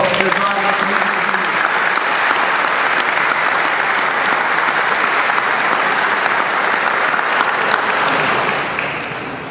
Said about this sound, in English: please give our guests here and our travelers a great round of applause